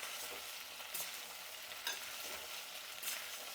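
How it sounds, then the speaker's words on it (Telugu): Sliced okra (bendakaya) dry-frying in a pan, a faint steady sizzle with soft periodic scrapes of stirring at roughly one-second intervals, no talking. "బెండకాయలు అనేది ఒక 7 నిమిషాలు వేయించాలండి"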